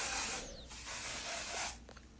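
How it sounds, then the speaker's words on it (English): Even tint spray hisses onto the lace of a wig in two steady bursts, close and soft, with brief quiet gaps around them. "So I'm going to go ahead and add the even tint spray to give the wig a darker tint."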